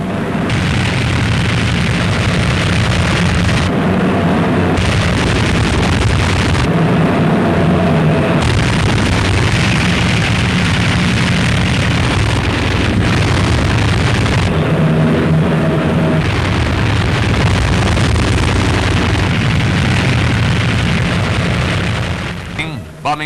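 Aircraft bombing and strafing military targets such as dumps, roads, supplies and transport in Normandy in 1944, heard as a continuous loud roar of booming blasts and engine noise under a narrator's voice.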